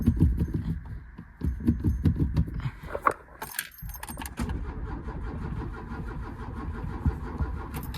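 An old VW with a manual choke and a loose air filter being cranked: keys jangle, then the starter churns in rhythmic bursts, pauses, and grinds again without catching, close by and fairly loud.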